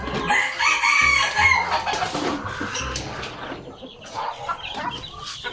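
Chickens clucking and a rooster crowing inside a cage on a farm, a busy overlapping chorus of calls, loudest at the start and continuing steadily near the listener.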